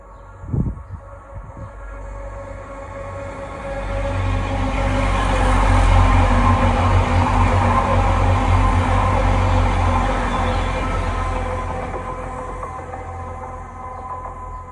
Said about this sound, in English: I was just about to stop filming when I heard another train coming